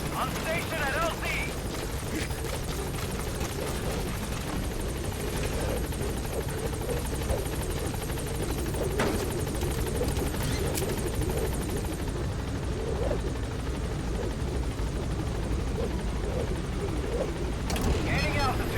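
Helicopter in Metal Gear Solid V: The Phantom Pain arriving at a landing zone, a steady loud rotor drone held throughout with a radio-style voice speaking over it.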